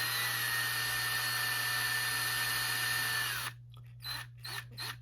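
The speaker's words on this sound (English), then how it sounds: "just use the screw gun, put it on reverse" A screw gun runs in reverse, backing a Phillips-head bolt out of a bike lock mount on a bicycle frame: a steady, loud, close whir for about three and a half seconds, then it cuts off, leaving a few faint handling noises.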